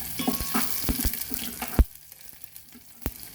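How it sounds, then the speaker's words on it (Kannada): Mustard seeds and crushed garlic spluttering in hot oil for rasam: sharp, irregular pops and crackles, loud and close over a soft frying hiss, easing off partway through. "ಈಗ ಸಾಸಿವೆ ಪಟಪಟ ಅಂತ ಇದೆ"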